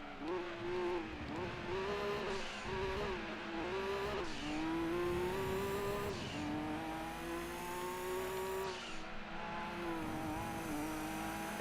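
A race car engine in the video game Gran Turismo 2 whines continuously, climbing in pitch and dropping at each gear change, with a person talking over the sustained drone.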